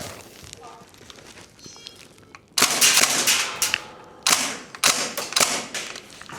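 Northeast Airsoft Mini UZI gas blowback rifle fires in sharp, loud bursts of rapid clacking shots after a quieter lead-in, with a few separate volleys and single cracks close by.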